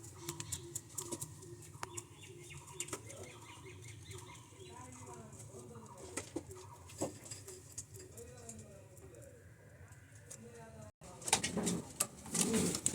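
Racing pigeons of pedigree lines coo softly in a loft, with low repeated coos, wing flaps and scattered bird calls throughout, and a louder burst of flapping and movement near the end.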